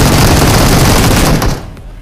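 Dense automatic gunfire lays cover fire in PUBG, a loud, rapid stream of shots that stops abruptly near the end, leaving a faint tail.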